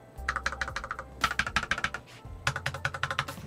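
Quick, crisp keystrokes on a James Donkey S2 low-profile keyboard come in fast bursts with brief pauses, close and clear with no talking.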